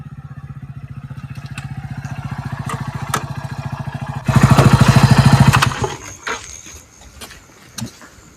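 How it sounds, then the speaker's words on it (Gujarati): A motorcycle engine putters steadily, then grows suddenly louder and closer in a strong throbbing rush before fading and slowing; no one speaks. "આ કોક આવતું હોય લાગે કોનું બાઇક આવે"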